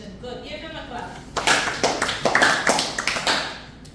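Students in a classroom break into a short round of clapping, sharp claps close by and loud, following a teacher's voice.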